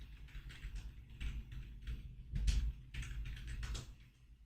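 Soft, steady clicking of keys typed on a computer keyboard, close but quiet, with brief irregular pauses.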